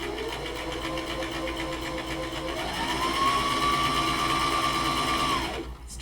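A sewing machine stitches cotton fabric in a continuous close, loud whirring run, its motor pitch rising midway and holding before it slows and stops near the end.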